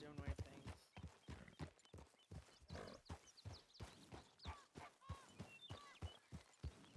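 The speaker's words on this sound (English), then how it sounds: "My horse is doing weird things." Hooves of a horse in a video game clip-clop in a steady, even rhythm, mixed with a voice talking over them throughout.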